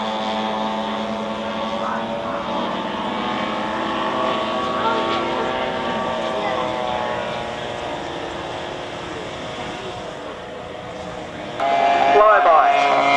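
Four model aircraft fly a barrel roll in formation at a model air show, their engines forming a sustained droning buzz with shifting pitch that swells louder near the end, under a commentator's voice.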